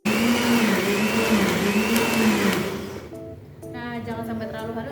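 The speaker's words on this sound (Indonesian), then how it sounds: "Lalu langsung kita blender." A kitchen blender whirring through soaked ingredients with water for a sambal-style mixture, loud and steady with wavering pitch, then stopping after about three seconds, followed by tonal speech.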